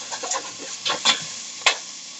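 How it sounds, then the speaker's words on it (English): Bacon being stirred in a hot pan for lentil soup, soft sizzling under a few scraping spoon strokes and clicks, close and quiet with no talk. "I'm going to start stirring it around so it doesn't burn"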